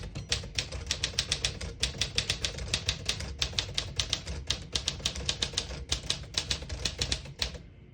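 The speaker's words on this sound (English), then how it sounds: "I'll type a sentence on the next line." Rapid bursts of keystrokes on a 1954 Smith-Corona Silent-Super portable typewriter, crisp clacks in a steady uneven rhythm close to the machine, with brief pauses between words and a final halt.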